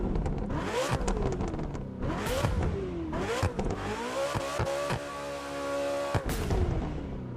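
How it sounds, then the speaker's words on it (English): A McLaren in The Crew 2 starts up and revs hard, its engine rising and falling through several loud surges punctuated by sharp backfire cracks, close and with no talking. "Let's give it a startup. The backfires, I love it."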